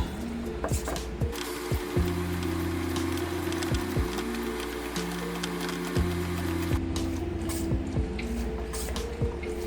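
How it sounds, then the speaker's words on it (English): Hand pump forcing transmission fluid into a BMW 335 gearbox, a steady mechanical hum with repeated creaking, squishing strokes in a regular rhythm, close and continuous without talk. "This part takes a while with a hand pump."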